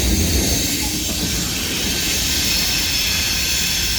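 A CSX Q372 freight train nearly 14,000 feet long, led by two EMD locomotives and carrying maintenance-of-way equipment, rolls past in a constant heavy rumble. A thin, sustained wheel squeal rides on top, loud and close.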